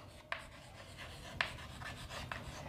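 A teacher writes by hand during a Bengali-language English grammar lesson, giving faint, scratchy pen or chalk strokes with a few sharper taps, alone in a quiet room.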